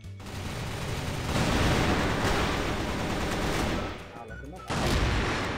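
Automatic gunfire in the online shooter CrossFire, dense rapid bursts of shots that go on almost without a break, with a short drop partway through before firing resumes, loud and close.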